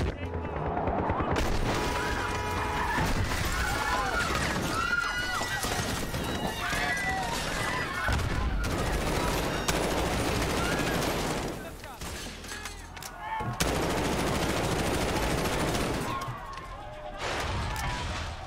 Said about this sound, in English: I don't have time to even do anything and I'm getting shot!